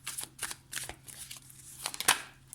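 Tarot cards being handled and shuffled at close range, a run of soft crisp riffles and flicks in quick bursts, ending in a sharper slap of cards near the end, with no talking.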